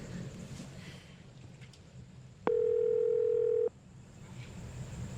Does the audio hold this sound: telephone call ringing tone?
yes